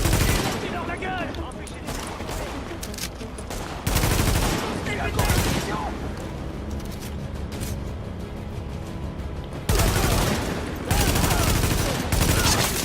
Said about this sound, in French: Bah ouais, ils tirent.